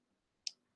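A single sharp, short computer mouse click, close and crisp, stands alone in an otherwise quiet room.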